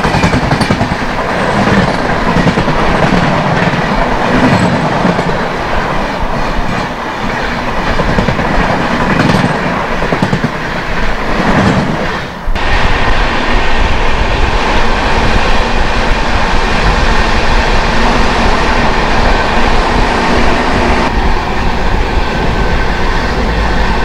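The Puri Dwarka Okha Superfast Express, an Indian train, passes close by, and its loud continuous roar and rumble of wagons on the rails carries through, with a rushing wind-like wash and clickety-clack from the wheels.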